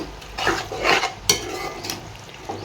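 Boiled boti is stirred into masala in a pan: a few wet, scraping sweeps and a sharp metallic clink of spoon against the pan, close and fairly loud.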